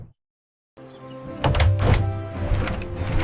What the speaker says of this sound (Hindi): दरवाजा खुलते ही